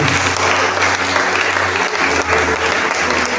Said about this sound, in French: Donc des acclamations au Saint-Esprit